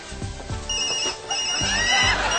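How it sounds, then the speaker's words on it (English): A telephone rings repeatedly in an office setting, its insistent electronic trill filling the room at close range with no talk over it. "my phone's been ringing off the hook"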